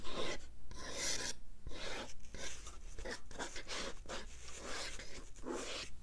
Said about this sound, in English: You are kind of scraping the paint a little bit